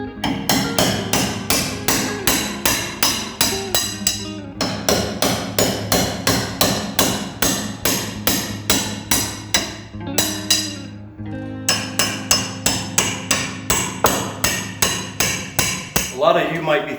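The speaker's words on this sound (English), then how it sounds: "I can come back in here and pull all these nails out" A hammer strikes steadily while nails are pulled out of wood blocking in a barndominium build, fast sharp metallic hits in long bursts separated by brief pauses, close and loud.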